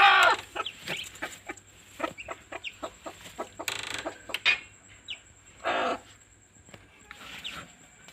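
Busy chatter of newly hatched Chinese ducklings with repeated clucks and short squawks, fairly close, some louder bursts, and a steady faint hum underneath.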